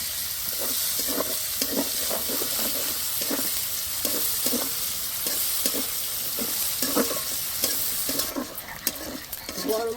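Chopped onions sizzle and fry in a pan for a Bengali rohu fish curry with coriander paste, steady hiss broken by regular scraping stirs of a spatula, close and continuous with no talk.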